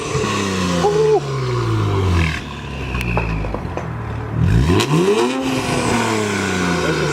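Infiniti Q60 fitted with full downpipes accelerating hard, a loud, close exhaust roar that rises in pitch through the gears, drops briefly, then surges again in a second strong pull.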